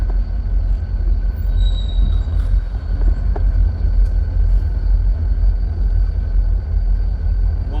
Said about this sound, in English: One locomotive in the front, or no, two locomotives in the front.